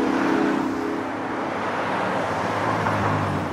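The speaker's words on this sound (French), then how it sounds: "Oh, mais ils sont de l'autre côté de la route et il y a énormément de voitures." Heavy car traffic on a busy road in an animated children's show: a dense, steady roar of many vehicles passing, loud and continuous throughout with no voices.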